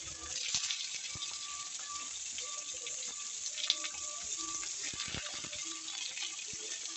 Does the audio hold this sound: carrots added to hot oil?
yes